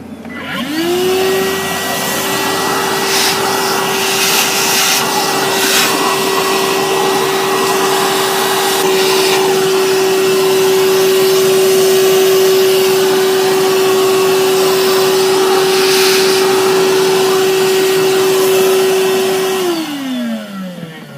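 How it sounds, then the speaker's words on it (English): A vacuum cleaner sucks debris from around the intake runners of a Dodge Charger R/T engine. It spins up, holds a steady, loud droning whine for about eighteen seconds, then winds down, with no talking. "I'm going to vacuum out around the intake runners so nothing gets in them."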